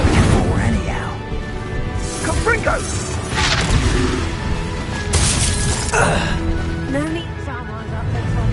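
The Confringo fire spell in Hogwarts Legacy bursts in several loud shattering crashes and whooshes, mixed with shouted voices and other combat sounds.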